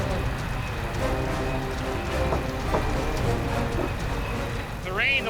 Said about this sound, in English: The rain, the water has made this job so much more difficult